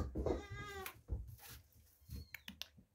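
A cat living alongside goats gives a close, drawn-out meow, followed by soft shuffles, thumps and a few brief squeaky cries in a quiet setting.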